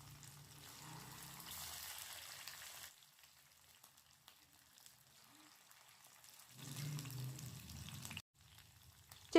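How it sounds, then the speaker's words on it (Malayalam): Pieces of marinated chicken kabab sizzle steadily in hot oil in a pan, a hissing fry that dies down for a few seconds and then swells again. "ഇനി നമുക്ക് ചൂടായിക്കൊണ്ടിരിക്കുന്ന എണ്ണയിലേക്ക് ഓരോ പീസുകളായി ചേർത്ത് കൊടുത്തിട്ട് പൊരിച്ചെടുക്കാം."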